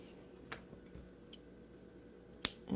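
Scissors snip yarn free on a crocheted snowman baby security blanket. A few faint, sharp, scattered clicks sound close by in a quiet room with no talking.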